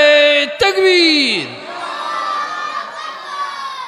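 A large crowd at a Bangla waz gathering roars the takbir response in unison, one loud sustained chant that falls in pitch, then trails off into a lingering murmur of voices.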